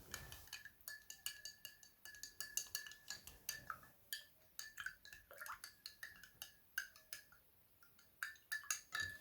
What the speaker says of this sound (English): I'm going to be using my whisker to mix it together